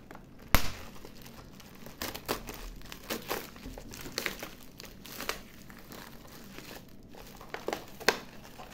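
Plastic and paper packaging around a boxed collectible Egyptian vase crinkles and rustles up close as it is unwrapped, with irregular crackles and a few sharper tearing snaps, fairly quiet and without talk.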